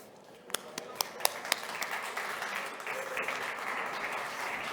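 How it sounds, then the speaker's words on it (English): Applause from a conference audience welcoming a speaker to the stage at a health congress, starting with a few sharp separate claps and swelling into steady, moderately distant clapping that carries through to the end. "Let's give her a round of applause"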